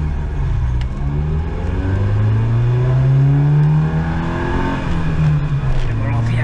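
Peugeot car on a hillclimb run at a Peugeot festival, engine revving hard up and down through the gears, loud and close from onboard, pitch rising and falling continuously.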